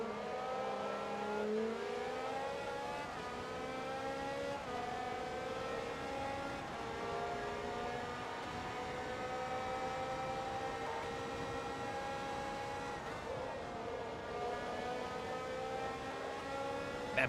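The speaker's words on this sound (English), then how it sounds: "That Peugeot sounds sick" A Peugeot racing in Forza Motorsport 2 gives a steady, sustained engine drone with rising and falling harmonic tones as it revs and shifts gears, loud and continuous throughout with no voices.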